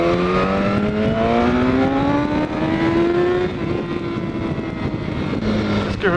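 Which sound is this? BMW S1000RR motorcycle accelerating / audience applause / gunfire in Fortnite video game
BMW S1000RR motorcycle accelerating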